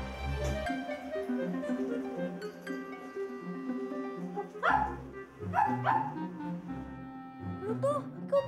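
A few sharp dog barks and yips ring out over background music, close and loud, with short gaps between them.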